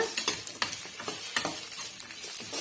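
Brinjal for chutney sautés in a pan while being stirred without pause, a soft ongoing sizzle under quick repeated spatula scrapes and taps.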